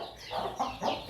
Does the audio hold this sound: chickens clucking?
yes